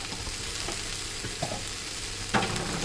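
Manathakkali greens for poriyal fry in a hot pan with a steady dense sizzle and a few soft stirring scrapes, one sharper knock near the end, no one speaking.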